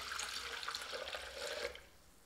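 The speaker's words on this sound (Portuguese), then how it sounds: "Eu vou começar colocando 800 ml de água" Water poured into a blender jar, 800 ml going in as the first ingredient for a roast chicken marinade, a steady splashing stream that runs for under two seconds and then stops.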